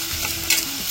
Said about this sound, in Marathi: कांदा फ्राय करते आता मी